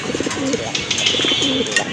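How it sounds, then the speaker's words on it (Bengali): Pigeons at a Bangladeshi pigeon market selling fancy breeds such as Gola and Rajgolla give two clear, close cooing phrases, each a rolling series of soft throaty notes, over a steady hiss of background noise. "আরেক জোড়া কবুতর দেখতে পাচ্ছেন এখানে"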